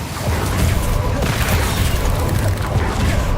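Confringo explosive spells fired in Hogwarts Legacy, loud, heavy booms and crackling blasts running continuously through the moment amid chaotic combat noise.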